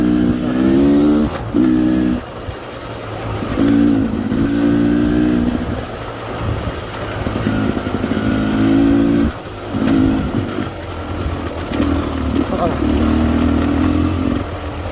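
A 2022 Beta Xtrainer motorcycle with a fatty pipe is ridden on a cliffside trail, its engine revving in repeated loud bursts that rise and fall through the ride.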